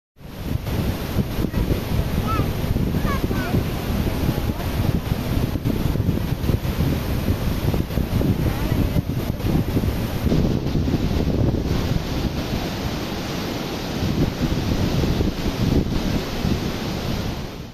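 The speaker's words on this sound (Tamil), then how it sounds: "ஒரு லட்சத்து மூவாயிரம் கன அடி தண்ணீர் திறந்துவிடப்படுவதால் தண்ணீர் ஆர்ப்பரித்து கொட்டுகிறது" Dam release of over a hundred thousand cubic feet of water, a broad steady roar of rushing water filling the whole stretch, loud and constant with wind buffeting the microphone, no voices.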